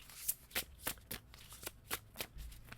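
Tarot cards riffled and shuffled by hand in a run of about ten quick papery bursts, close and fairly quiet, with no talking.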